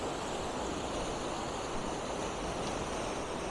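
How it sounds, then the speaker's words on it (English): A fast, flooded river pours as a torrent past a bridge in a steady, dense rush of water noise with no pauses and no voices. "quite a torrent coming down here now"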